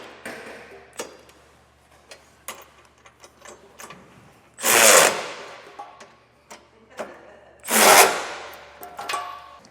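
A power tool drives trailer hitch hardware home with a 3/4 inch socket on a 2024 Ford Escape, with two loud buzzing bursts of a few seconds each, plus scattered clicks and metallic taps between them.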